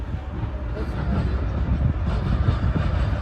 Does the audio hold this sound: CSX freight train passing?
yes